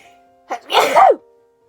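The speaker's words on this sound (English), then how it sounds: "I really need to sneeze" A single sharp sneeze, close and loud, preceded by a quick intake of breath.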